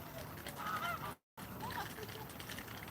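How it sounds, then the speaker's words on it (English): Swans and ducks at a pond give a few honking calls over steady outdoor background noise, with a short break of silence partway through. "We've got some swans hanging out here."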